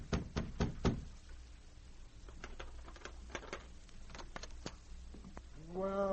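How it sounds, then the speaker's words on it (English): A sergeant knocks on a hotel room door: a quick, close burst of sharp raps at the start, followed by quieter clicks and shuffling against a low background hum. "A few moments later, the sergeant knocked on Baird's door."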